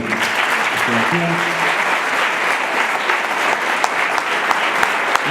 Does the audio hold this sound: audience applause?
yes